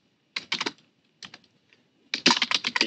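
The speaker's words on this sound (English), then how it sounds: "So let's type again." Clattering keystrokes on a computer keyboard come in three close bursts separated by short pauses, the last burst fastest and densest, crisp and near with no voices.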